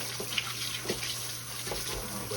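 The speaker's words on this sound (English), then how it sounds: "Now, wash my hands here right quick." Hands being washed under a running kitchen tap, a steady hiss of flowing water with faint splashes, close and continuous, with no talking.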